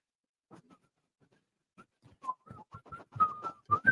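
Several people whistle a tune, starting quietly with scattered notes and building into a brighter, more continuous melody toward the end.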